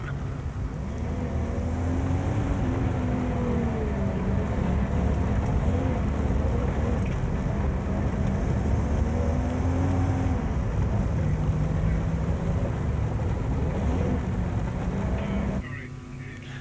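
Turbocharged Toyota Hilux 4x4 heard from inside during an off-road race, a loud continuous engine drone with wavering pitch and rumbling chassis noise, easing off at the end.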